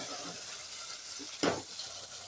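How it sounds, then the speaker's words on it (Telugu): Greens frying in a pan as turmeric is stirred in, a steady hissing sizzle with one short scraping stir of the spoon midway, fairly quiet and close with no talking. "పసుపు వేసుకొని అంతా నీట్గా కలుపుకోవాలి"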